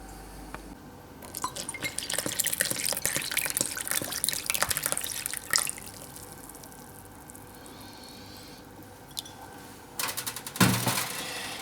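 Water is poured into flour for sourdough dough, a splashy trickle with clinking and tapping against a glass container for several seconds, then quieter handling noises and a final knock.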